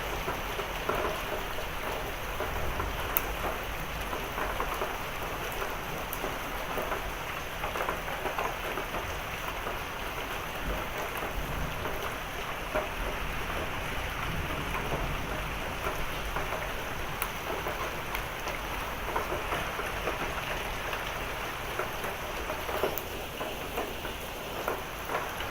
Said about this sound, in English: Wow, this is a big storm.